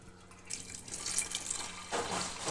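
Water pours into a pressure cooker holding dried peas, a steady splashing stream that starts after a brief pause and grows fuller toward the end, close and moderately loud.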